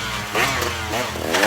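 A 2017 KTM 150 XCW two-stroke dirt bike engine revs hard and close, its buzzy, raspy note rising and falling in quick throttle blips with no talk over it.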